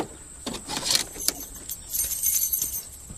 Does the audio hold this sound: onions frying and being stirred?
no